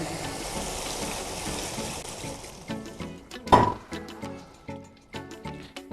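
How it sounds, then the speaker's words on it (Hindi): Two cups of water poured into a pot of beef kofta curry after the meatballs are fried, a broad steady gush for a few seconds that gives way to clinks and splashes and a louder slosh near the middle. "अब हम इसमें डालेंगे पानी हम इसमें 2 कप डाल रहे हैं"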